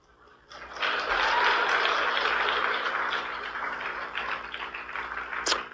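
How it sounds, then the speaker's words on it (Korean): A church audience breaks into applause, a dense burst of clapping that swells quickly, holds strong, then gradually thins and tails off over several seconds. "그래도 박수는 많이 받고 가야 되잖아요."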